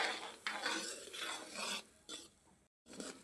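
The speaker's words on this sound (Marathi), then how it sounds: "तर आपण यात थोडा थोडा रवा टाकून छानपैकी हलवून घेऊ." Semolina (rava) is added little by little to an upma mixture and stirred with a spoon in a pan. The soft scraping strokes come in quiet, uneven bursts close by, with a short silent gap near the end.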